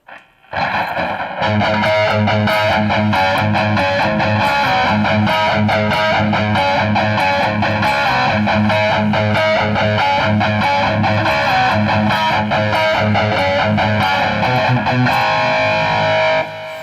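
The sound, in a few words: distorted electric guitar riff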